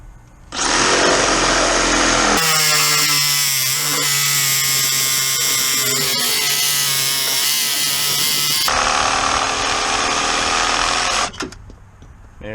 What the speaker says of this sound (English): Me personally, I have a Sawzall, and that's a lot quicker and cheaper than most other options